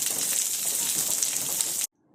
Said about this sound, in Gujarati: અત્યારે વરસાદ શરૂ થઈ ગયો છે